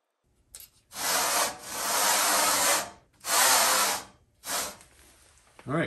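A power driver sets M4 screws into guide blocks on the rear chuck of a DIY fiber laser tube cutting machine. Three close, loud bursts of buzzing whir, each a second or two, with short pauses and no talk.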